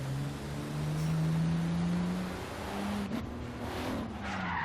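A modified Toyota Supra with a big exhaust drives in Forza Horizon 3, its engine droning steadily while the tires squeal and skid, with a brief sharp knock midway.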